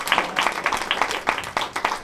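Audience applause at a historical society anniversary celebration, a modest group clapping in an uneven patter of distinct claps, moderately near and fairly faint.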